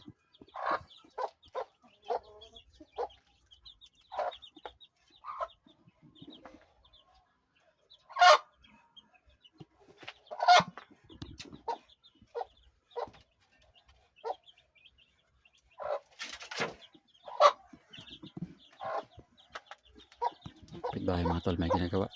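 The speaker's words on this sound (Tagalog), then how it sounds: "Manok na pangihaw." Chickens cluck in short, scattered bursts close by, with a few louder squawks and brief spoken words mixed in among the quiet gaps.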